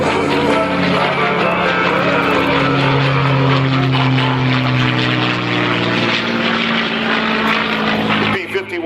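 A P-51 Mustang propeller plane's engine drones loudly and continuously, a deep throbbing roar that holds steady throughout, at an air show.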